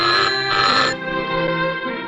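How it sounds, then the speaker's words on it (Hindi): A telephone rings during a call to naval headquarters, a bright, continuous electronic trill with sustained tones and no talk over it. "मैं नेवल हेडक्वार्टर पर अभी एडमिरल मुखर्जी को फोन करता हूँ।"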